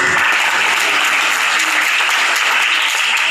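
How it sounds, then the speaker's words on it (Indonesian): A church congregation applauds during a worship service, a loud, dense and continuous wash of many hands clapping that fills the room without pause. "Tepuk tangan bagi Yesus."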